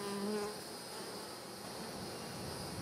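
Honey bees buzz around frames lifted from a nuc box, a steady dense hum close by with a brief higher drone at the start, outdoors as a storm approaches.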